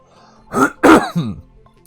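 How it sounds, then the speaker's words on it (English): A few rough coughs and throat-clearing bursts in close succession, loud and close, with quiet between them. "Sorry, got a bit of a cough or something going on."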